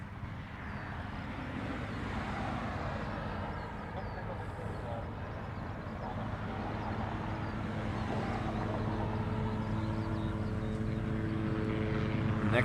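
A Delta Boeing 767 airliner arriving at Honolulu airport from Tokyo produces a steady, distant jet engine rumble that builds slowly in loudness, with a voice talking faintly beneath it.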